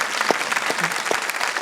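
Brief burst of audience clapping during a cast conversation event, steady and fairly loud for about a second and a half, with no voices over it.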